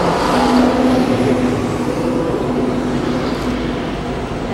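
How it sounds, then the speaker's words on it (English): Loud street traffic in Rome, a dense continuous roar of passing cars and heavier vehicles, with a faint whine over the steady rumble and no clear voices. "Traffic is loud."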